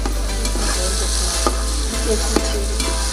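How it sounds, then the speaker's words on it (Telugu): Cloves and cardamom fry in hot oil in a pot with a steady close sizzle, while a spoon stirs and scrapes against the pot in irregular knocks over a low hum. "లవంగాలు యాలకులు అన్నీ వేసుకొని బాగా కలుపుకోవాలి"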